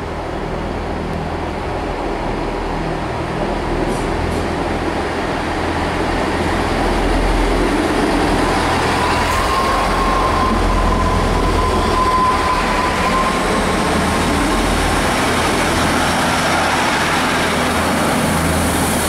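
A London Northwestern Railway train bound for London Euston rumbles steadily at a station, a loud continuous rolling roar with rail noise and a brief high squeal midway, no voices.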